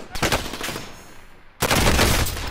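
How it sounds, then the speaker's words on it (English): Rapid automatic gunfire in Call of Duty Warzone, loud and close, firing in two bursts separated by a short pause, with a second, denser burst rattling on to the end. "I'm shooting him"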